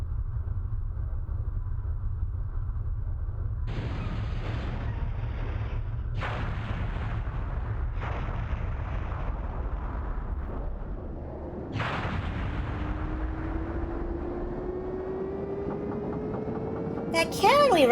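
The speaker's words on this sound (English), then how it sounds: "That cannon we ran through, it just exploded. The explosion took out that whole area." Cannon blast in the Skies of Arcadia Legends video game: several loud booming explosions repeat every couple of seconds over a constant low rumble, followed by a rising whine at the end.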